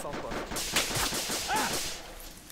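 Rapid gunfire from the video game ARMA 2 crackles in quick bursts at mid distance, a dense fusillade running throughout with a voice talking faintly underneath.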